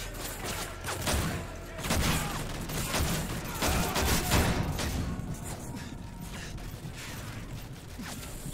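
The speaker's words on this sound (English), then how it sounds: "Stop shooting me!" Dense, sustained gunfire and booming impacts from Call of Duty: Modern Warfare 3 roll on continuously, loud and chaotic, during the "Stronghold" mission, with a faint voice beneath.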